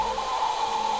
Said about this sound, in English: listening to his vacuum cleaner.